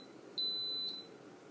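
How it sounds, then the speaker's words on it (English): A single steady electronic beep from an Instant Pot set to cook boiled eggs, signalling it is set and ready; one clear tone lasting about half a second, fairly loud and close, over faint room noise. "If you leave it on, it will beep, letting you know that it's set and ready to go."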